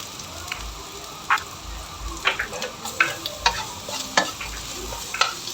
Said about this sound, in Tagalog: tsaka natin isunod na ilagay yung ating bawang